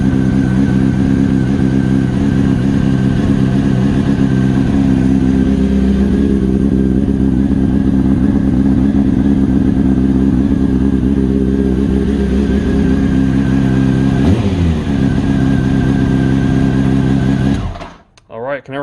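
A Honda CBR929RR motorcycle engine with a mid-range bogging fault fires up and runs steadily, holding a loud, rich idle with a brief rev blip near the end before shutting off abruptly.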